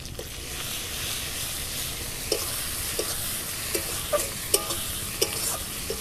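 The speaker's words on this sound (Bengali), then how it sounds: "1 চামচ জিরে বাটা দিয়ে দেব।" Cumin paste is stirred into ginger and garlic frying in a pan: a steady, close sizzle with scattered scraping ticks from the stirring spoon, and no voices.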